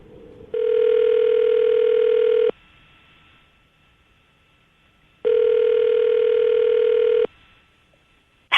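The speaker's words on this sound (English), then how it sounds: "I'm going to dial the phone number right now" A telephone ringback tone sounds twice, each a steady two-second buzz separated by a long pause, loud and close.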